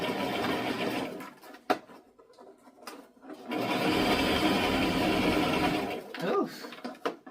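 A sewing machine runs a zigzag stitch on a copper-colored dress, with loud bursts of steady stitching broken by pauses, a sharp click, and brief quieter handling noises near the end.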